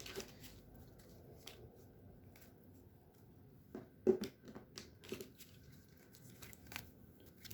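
A deck of tarot cards is shuffled by hand in quiet, soft riffling bursts and scattered snaps over several seconds, close but faint, with no talk.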